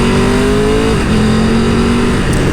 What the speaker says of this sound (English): That triple makes an absolutely wonderful sound. It's very low, it's very grunty.